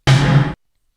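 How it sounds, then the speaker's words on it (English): A single down-tuned gated snare hit from an Alesis HR-16 vintage drum machine, loud and noisy with a deep body, cut off abruptly after about half a second, then silence. "Moving on to the gated snare. Wow, that's down-tuned."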